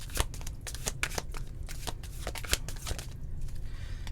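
Tarot cards are shuffled and drawn by hand, giving a close, quiet run of rapid riffling flutters and soft slaps with small peaks, with no talk over them.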